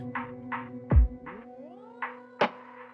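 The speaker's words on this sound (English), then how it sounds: "sometimes I use the octave up. I'll show you what that sounds like" Guitar played through a reverb pedal on its crush setting with octave-up pitch added: a string of short shimmering plucked notes with a bright upper octave, a pitch sweep rising midway and a low thump near the start, close and alone.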